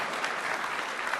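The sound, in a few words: audience applause at Build 2014 keynote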